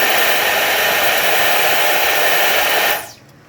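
A Dyson V10 cordless vacuum running on its max setting gives a loud, steady high-pitched whoosh and whine that cuts off sharply near the end, leaving a faint hum.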